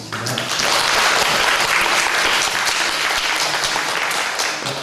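A church congregation gives sustained applause for its members, dense and steady for several seconds and close by, with no speech over it.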